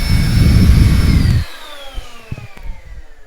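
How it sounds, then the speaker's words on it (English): A vacuum cleaner roars loudly up close, then is switched off and its motor whine winds down and fades, with small knocks and clatters after. "See right here, the vacuum"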